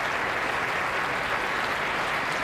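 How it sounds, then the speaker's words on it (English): A large audience applauding at the close of the 2012 first presidential debate between Obama and Romney, a dense, even wash of clapping that stays loud and sustained throughout. "a very well-behaved crowd that was silent for 90 minutes bursts into applause at the very end for both men"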